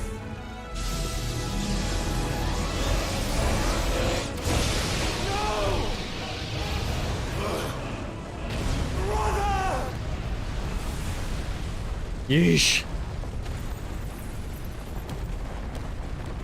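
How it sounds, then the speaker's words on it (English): A big explosion in the video game Final Fantasy XVI, a sustained loud roaring blast that fills the soundscape for many seconds, with a person speaking briefly over it. "big explosion"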